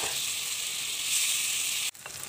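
Churi dried fish with onion, green chillies and pre-fried eggplant and potato being mixed in a pan, giving a bright steady sizzle with a sharp knock near the end before the frying continues quieter.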